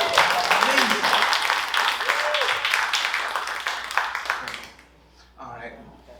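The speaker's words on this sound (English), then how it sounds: "let's give another clap for the cast" Audience applause for a cast after a stage musical, a dense burst of clapping from a crowd that fades after about four seconds, with a voice speaking over it near the end.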